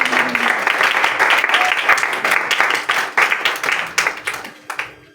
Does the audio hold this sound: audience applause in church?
yes